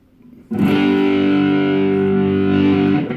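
A single strummed chord on an electric guitar using two single-coil pickups in the fourth switch position rings out loudly with a slightly gritty edge and holds for a few seconds before fading, with no talking.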